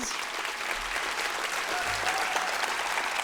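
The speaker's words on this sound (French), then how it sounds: "On l'applaudit, Francine Timmins" Sustained applause from a gala audience honoring the stage director, a steady dense wash of clapping throughout with no voices standing out.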